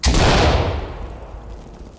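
A flashbang grenade going off in the Ready or Not video game, one sharp, loud, close blast that fades over about two seconds into a rumbling decay, with no talk over it.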